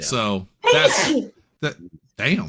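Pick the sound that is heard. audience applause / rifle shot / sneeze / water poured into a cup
sneeze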